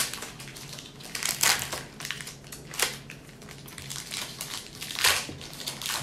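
A foil pack of WWE Topps RAW 2019 trading cards is torn open by hand, with sharp crinkling and crumpling bursts and tearing rips, close and loud with no talk.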